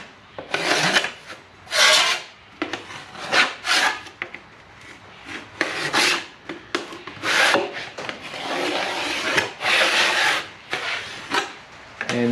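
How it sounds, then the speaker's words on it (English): A double-edged deburring tool scrapes along sharp metal edges in irregular bursts of harsh rasping strokes, some quick and some drawn out, heard close up and fairly loud with no talking. "And this tool I'm using is a double-edged deburring tool."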